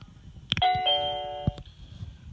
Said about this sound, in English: when I press the doorbell now